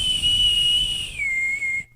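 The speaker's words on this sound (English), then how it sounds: "The boatswain's whistle blew loudly" A boatswain's whistle shrills loudly aboard a ship, one long sustained piping note that steps down to a lower pitch partway through before cutting off abruptly.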